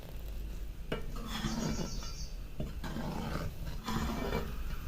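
A ladle stirs a boiling green pea curry in a pot, giving several close scraping and clinking strokes over a bubbling, rumbling simmer, with no voices.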